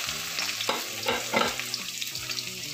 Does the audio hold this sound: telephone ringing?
no